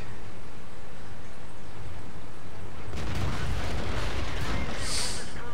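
A tank cannon fires in a tank video game, a single loud booming blast that breaks out midway over constant engine rumble and battle noise.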